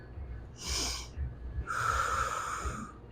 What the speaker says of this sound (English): In through your nose and out through your mouth